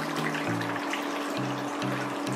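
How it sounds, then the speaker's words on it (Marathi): Water pours steadily into a container holding spices ready for grinding for a Maharashtrian khatkhata dish, a continuous close splashing stream under low, pulsing background hum. "पहिल्या प्रथम आपण पाणी घालू याच्यात."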